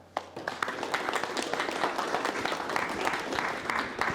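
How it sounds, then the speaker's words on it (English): Audience applause fills a city council meeting chamber, a steady dense clapping that holds for several seconds at moderate level, with faint voices underneath. "So with that, we would like to also give them a round of applause."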